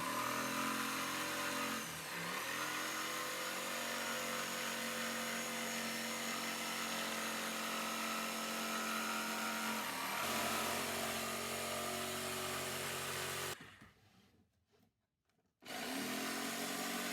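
A power saw cuts wooden circles for a homemade upholstered ottoman, whining loudly and continuously with slight shifts in pitch, dropping out briefly near the end before starting up again.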